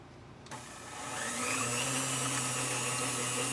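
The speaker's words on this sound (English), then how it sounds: "So we beat the egg whites until they're frothy." An electric mixer starts up with a click and whirs into a steady high motorized whine as it beats egg whites in a bowl, close and continuous, no voices.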